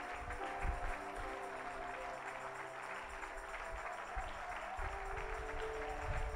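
A church congregation applauds in steady, sustained clapping throughout, dense and fairly even, with a low hum of crowd noise beneath.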